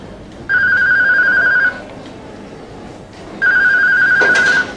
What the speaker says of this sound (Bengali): আমার ফোন।